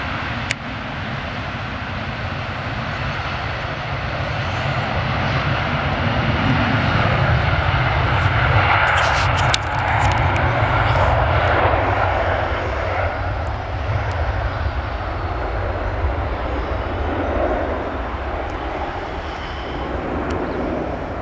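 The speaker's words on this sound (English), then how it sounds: "Gears up now, off goes the 757." A 33-year-old Jet2 Boeing 757 taking off from Manchester Airport: a loud, sustained jet engine roar that builds and then holds steady, with a broad rumble and a higher whine.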